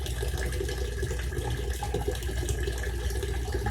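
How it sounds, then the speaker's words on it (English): Clean water drains from a grain fermenter kit through a bazooka filter, giving a steady, continuous close rushing and trickling with no talk over it. "Good, clean water coming out."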